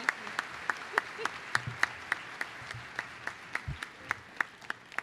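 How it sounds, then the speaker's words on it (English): Scattered applause from the crowd at a UW-Parkside commencement ceremony in May 2023. Individual sharp claps ring out at irregular intervals over a faint room murmur. "More applause."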